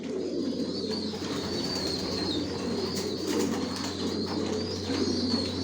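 A loft full of original racer pigeons gives off a constant layered cooing, many birds close by murmuring without pause, with light chirps scattered over the steady hum.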